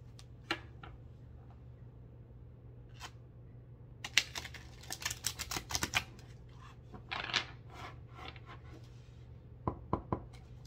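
Tarot cards being shuffled by hand, giving bursts of soft riffling taps and clicks in a few irregular clusters over a steady low hum, close and fairly quiet, with no talking.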